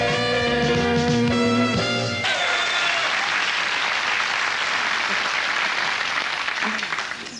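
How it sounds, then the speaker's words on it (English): A talent show audience bursts into loud, sustained clapping and foot stamping right after a piano-accompanied song ends, a dense roar of applause that holds steady and fades slightly at the close. "They were clapping and stamping their feet"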